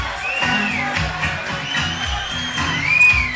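Crowd at a martial arts fight night cheering and whooping for a young fighter, a steady roar with rising shouts and whistles over booming event music, dense and continuous throughout.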